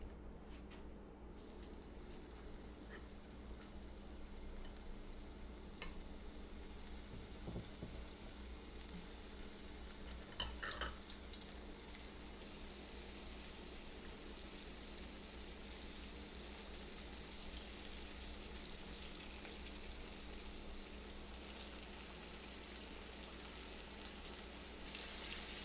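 Flour-dusted squash frying in hot oil, a quiet continuous sizzle and crackle over a long stretch, with a few faint clinks midway.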